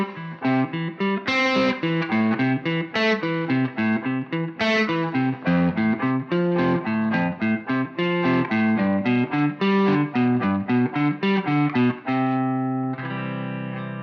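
Electric guitar with a distortion effect picks four-note chord-tone arpeggios that outline each chord of a progression, played as a steady, even run of notes that ends on a sustained chord.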